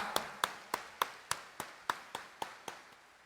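Devotees at Quiapo Church clap in a slow, steady series of about ten single sharp claps, evenly spaced and fairly quiet, with a reverberant church tail after each.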